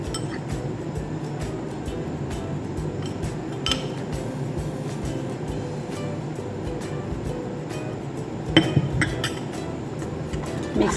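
A spoon stirs flour into chocolate mug cake batter in a mug, giving a steady run of soft scraping with light clinks against the mug's sides and a few sharper taps toward the end.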